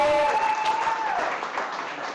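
Applause from a small audience at a cooking competition, cheering a chef on, heard under a steady electronic tone and some background voices.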